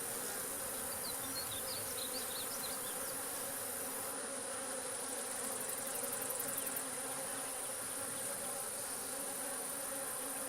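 Honey bees buzz continuously around an open beehive, a steady dense drone heard close and fairly quiet, with no one talking.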